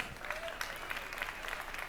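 An audience at a live gaming showcase claps steadily, a dense patter of applause heard at moderate distance without a break.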